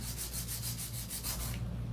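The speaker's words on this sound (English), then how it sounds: "my hand filing" A hand file rubbing back and forth over a smooth acrylic nail surface, giving steady rhythmic scraping strokes close up over a constant low hum, with no talking.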